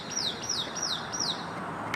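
Birds identified as doves call in a repeated series of four descending, whistled notes, evenly spaced and fairly clear over a light outdoor background, with no talking.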